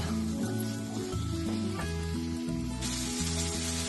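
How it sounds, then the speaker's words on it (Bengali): Spices sizzling in a pan as paneer is added and sautéed, a steady crackling hiss running throughout beneath a droning background hum. "এবার আমি এটা অ্যাড করে দেবো, দিয়ে একটুখানি কষিয়ে নেব"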